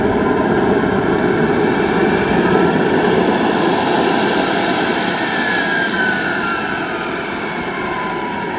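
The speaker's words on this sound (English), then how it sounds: "We've got a gorgeous Viper jet here." An RC Viper jet model with a turbine engine at the Joe Nall fly-in at Triple Tree, giving a steady, loud, broadband jet roar with a faint rising whine, running continuously at close range.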